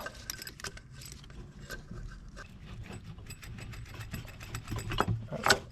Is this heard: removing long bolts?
yes